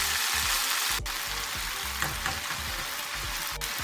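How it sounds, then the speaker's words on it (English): Frozen corn tossed into a hot frying pan for a dairy-free zucchini casserole, a loud continuous sizzle up close with a couple of sharp clatters from the pan. "I just threw the corn in to give a little more body to this dish"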